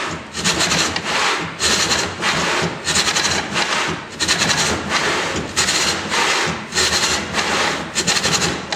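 Hand resawing of oak and purpleheart with a saw, loud close rasping strokes in a steady back-and-forth rhythm, about a dozen cuts with short gaps between each pass.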